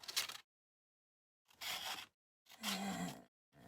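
Paper bag being cut with a cutter or knife, three separate short bursts of crisp tearing and crunching with silent gaps between, close and fairly quiet.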